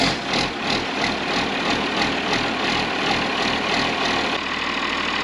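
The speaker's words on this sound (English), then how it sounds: "So let's try and do a cold start." A 1953 Kenworth bus diesel engine idles after a cold start, a loud, close, steady low rumble with an even pulsing rhythm and no voices over it.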